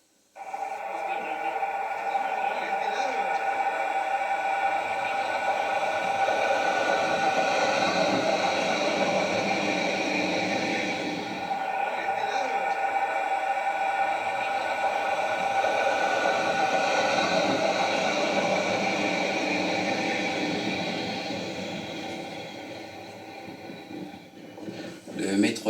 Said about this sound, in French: le métro express effectuant un parcours d'essai juste avant d'être embarqué pour Maurice